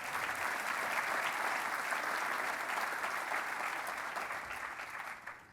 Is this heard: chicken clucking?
no